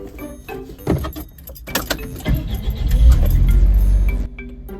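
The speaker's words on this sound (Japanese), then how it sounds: "エンジンをかけてみてちゃんとつくかどうかを確かめてみましょう" Keys jangle and a click sounds before the engine of a Mitsubishi Minicab Van cranks and turns over, settling into a low steady idle that cuts off abruptly.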